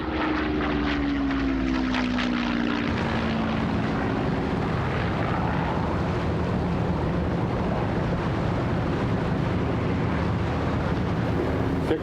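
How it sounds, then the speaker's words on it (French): Fairey Swordfish torpedo biplanes taking off from the carrier Ark Royal in violent rain for a second attack: a loud, steady propeller-engine drone that fills the whole stretch, with a rising engine whine early on and no voices. "Sous une pluie violente, les Swordfish décollèrent pour une deuxième attaque."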